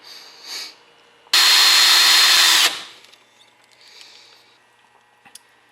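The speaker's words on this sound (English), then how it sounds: "I'm going to drill a hole in the side of this" A power drill whines loudly for about a second, close up, drilling a hole in the side of a brass stove, then stops; quiet handling noises before and after.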